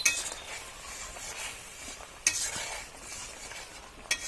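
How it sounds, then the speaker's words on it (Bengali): A spoon stirs mola fish curry with raw mango in a pan, giving a quiet steady sizzle with a few light metallic clinks against the pan. "একটু ভালোভাবে নাড়াচাড়া দিয়ে দিব"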